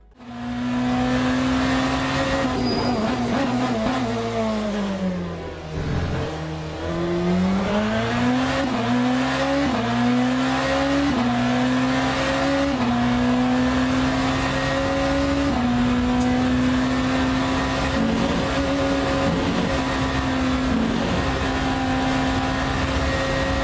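Hypercar in Le Mans Ultimate lapping Spa, a loud close engine whine climbing and dropping through gear changes, dipping low under braking before rising again in a sustained high drone.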